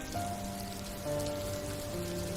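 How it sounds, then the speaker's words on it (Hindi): Rain sound effect with raindrops falling steadily, a soft, even patter under sustained tonal background music, with no voices. "बारिश की बूंदें अब धीरे धीरे गिरने लगी थी।"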